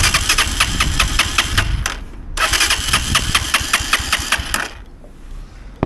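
A motorcycle that has stalled on the road is being started, the engine firing into a fast, rhythmic knocking run that cuts out, restarts and runs again, loud and close with no talk.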